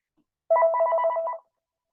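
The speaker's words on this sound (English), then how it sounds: "I just want to shut off the phone" A telephone rings once in a quiet room, a single warbling electronic burst lasting about a second, moderately close and alone with no talking.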